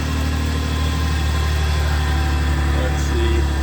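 Ford Escape engine idling after off-road mudding repairs, exhaust running from the rear tailpipe: a steady, even mid-low hum and drone, continuous and close, with no talk heard over it.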